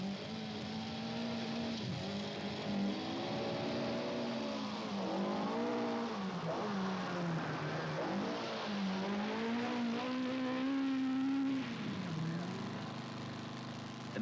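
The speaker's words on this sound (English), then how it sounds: "The Escort BDA took 8 years to develop, and at the moment is proving itself the fastest rally car in the world" Ford Escort BDA rally car at speed on the 1979 Castrol International Rally, engine revving hard with repeated gear changes and pitch swings, close and continuous.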